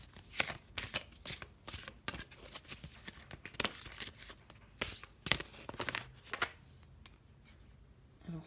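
Oracle advice cards are shuffled close by in quick bursts of crisp riffling and slapping, uneven in rhythm and fading toward the end.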